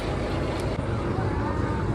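A river ferry (ballakattu) on the Krishna River runs its engine with a dense, steady low drone and broad wash, close and continuous without a break.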